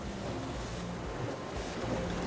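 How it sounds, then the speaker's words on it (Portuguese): Wind of about 15 knots blowing across a small sailing catamaran at sea during a Pacific crossing, a steady rushing buffet of wind noise mixed with water wash, with no talk. "a gente tá com um vento de travessa de uns 15 nós"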